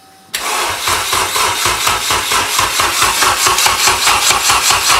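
A Honda K20 engine in a Civic cranks with a fast, even rhythmic churning from the starter, loud and close, continuing steadily without clearly catching.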